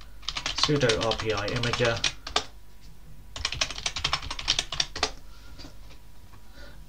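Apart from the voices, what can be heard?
typing a command on a computer keyboard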